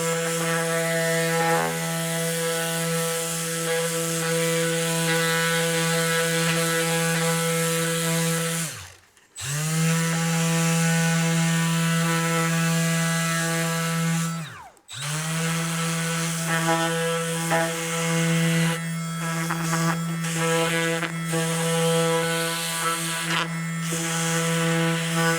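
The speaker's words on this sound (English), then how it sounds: "for this job, we're going to be using a detail sander that can get into the corners" Detail sander droning steadily on a walnut Pac-Man figure, a loud, continuous buzzing whine that cuts out briefly twice before restarting, with no talking.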